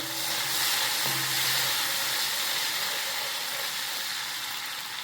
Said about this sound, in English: Now I'm going to add my locust beans. Some crayfish, stir